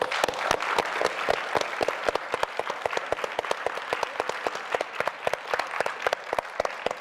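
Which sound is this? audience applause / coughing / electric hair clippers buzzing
audience applause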